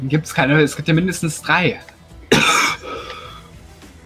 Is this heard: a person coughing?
yes